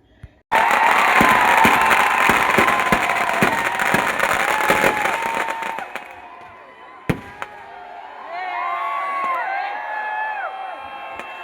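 Dense, continuous crackling bursts of firecrackers going off loudly for several seconds at the Malayattoor carnival, then a sharp single pop, with a crowd's voices and chatter rising afterward.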